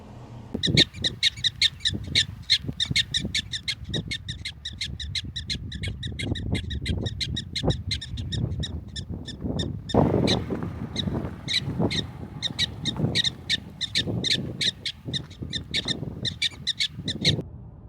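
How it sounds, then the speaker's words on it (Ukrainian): A colony of prairie dogs in Dakota gives rapid, repeated sharp chirps in quick bursts, steady and fairly close, over low rumbling background noise outdoors. "Прайрі доги, такі собі американські сурикати, цілі колонії, які постійно цвірінькають."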